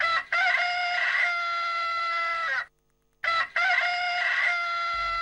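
A human voice imitates a rooster crowing, delivering two long, loud, drawn-out cock-a-doodle-doo calls separated by a brief silence, close and clear with no other sound.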